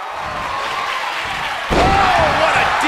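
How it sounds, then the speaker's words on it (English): A DDT wrestling slam lands with a sudden heavy thud midway through a match in the video game WWE 2K23, followed by a swelling roar from the arena crowd. "Oh, what a DDT!"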